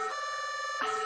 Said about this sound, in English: the blue and red sirens of an NCPD squad car